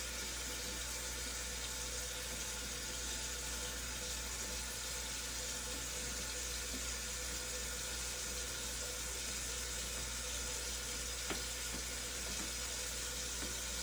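A faucet runs steadily during handwashing, a continuous faint hiss of water over about 14 seconds with a steady background hum and no talk.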